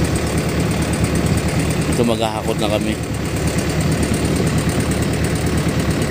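A farm tractor's engine runs steadily nearby at harvest time, its droning idle carrying throughout while someone speaks briefly over it.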